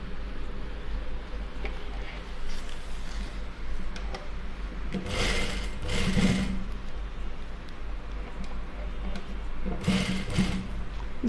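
A sewing machine stitches a neck seam on a fancy neck design, running in short bursts of a few seconds with louder passes around five to seven and ten to eleven seconds over a steady low hum.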